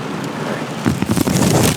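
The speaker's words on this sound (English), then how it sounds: "it's raining outside" Heavy rain pouring down outdoors beside a screen printing shop, a dense steady hiss that swells louder and rougher in the second half, with no voices.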